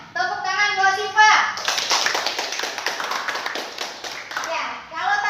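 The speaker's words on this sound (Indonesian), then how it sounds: "Tepuk tangan buat Siva." Schoolchildren clap for a classmate during a math lesson, a lively burst of close, rapid hand claps following a teacher's voice, with speech returning as the clapping fades.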